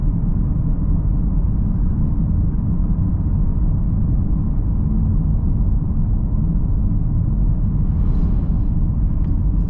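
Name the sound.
Mazda CX-30 driving on a bumpy road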